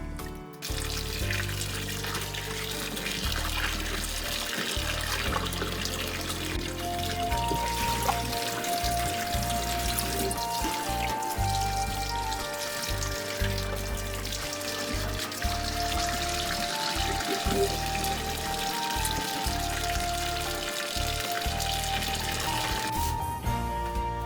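Tap water runs steadily into a sink while bell peppers, onion and a jalapeno are rinsed, a constant close splashing stream with faint clinks underneath.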